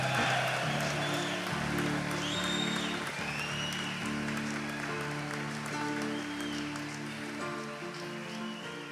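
A church congregation at a men's worship congress applauds throughout, steady broadband clapping with crowd noise, organ or keyboard tones sustained underneath.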